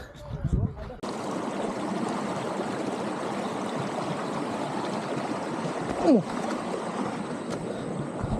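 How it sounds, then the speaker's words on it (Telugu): Sarugudu waterfall heard up close, a loud steady rushing roar of falling water that starts abruptly and continues unbroken, with a brief voice and a few small sounds at the start. "మీకు వాటర్ ఫాల్ సౌండ్ వినిపిస్తుందో లేదో తెలియదు."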